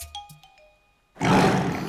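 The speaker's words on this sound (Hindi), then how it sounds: "हाँ, लगता है किसी बाघ की आवाज है।" A tiger's roar bursts in loud and close after a second of near silence, broad and rumbling, following a few faint tonal chimes at the start.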